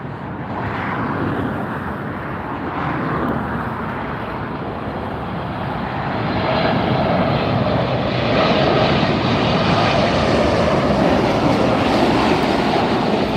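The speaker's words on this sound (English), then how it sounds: "Wow, what an incredible view of that jet." A jet airliner passes at Los Angeles International Airport, a loud, close, continuous engine roar and rushing whine that swells slightly as it goes by, with no talking.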